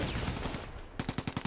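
Tank guns and machine-gun fire in the Close Combat: A Bridge Too Far war game during an anti-tank ambush, a dense burst of shots followed by a rapid rhythmic string of about six loud, close reports.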